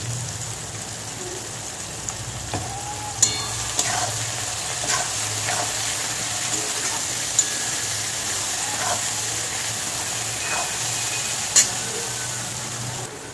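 Onions frying in oil with nigella seeds, bay leaf and turmeric for onion posto, a steady close sizzle and crackle with occasional sharp clicks of a spoon stirring against the pan, no voices.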